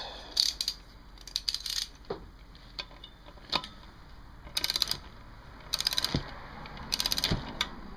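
Ratcheting clicks from a torque wrench snugging an 8 mm nut on the shift arm shaft of a 1985 Kawasaki VN750 engine during a rebuild, coming in short bursts with brief pauses, close and fairly quiet.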